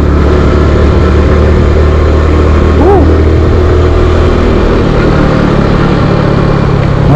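A motorcycle engine hums steadily and loudly throughout a ride, with road and wind noise and a brief horn-like tone midway.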